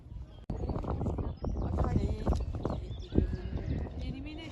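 In a horse riding video game's cross-country event, a horse gallops with rapid, rhythmic hoofbeats and a jump, while a person talks loudly over it throughout.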